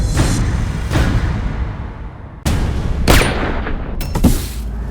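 Repeated gunshots in a drama scene, several sharp loud blasts in irregular bursts with ringing decay, standing alone without talk.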